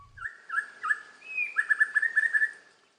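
A ferruginous partridge calls on a Laos rainforest floor, a run of clear whistled notes rising into a quicker series of repeated chirps, close and distinct with no one talking.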